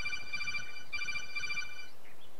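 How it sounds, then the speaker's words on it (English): Metal Gear codec alert tone sounding as a phone notification, a rapid electronic trilling beep in two short bursts, close and fairly quiet against faint background noise. "That was the codex noise from Metal Gear."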